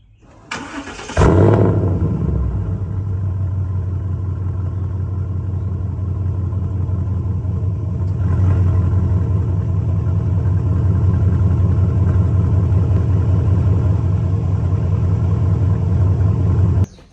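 A 6.2-litre V8 engine in a Ford F-150 pickup fitted with headers cranks and catches, then settles into a loud, steady, deep idle with a throaty, pulsing burble that runs on without a break.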